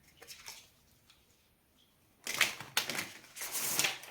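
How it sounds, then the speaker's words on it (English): Quiet soft riffling at first, then several crisp bursts of cards being shuffled, close and fairly loud, each a quick fluttering ripple. "This deck is so freaking satisfying to shuffle"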